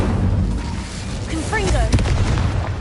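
An Incendio fire spell is cast in Hogwarts Legacy on PS4, making a loud, rumbling burst with a whooshing flare over continuous game background sound, while voices are heard underneath.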